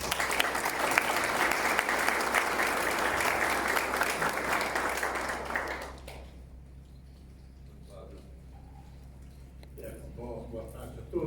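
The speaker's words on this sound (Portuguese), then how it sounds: "Uma salva de palmas." Audience clapping at an art exhibition talk, a full round of applause for about six seconds that then stops abruptly, leaving room tone with faint voices and small handling noises.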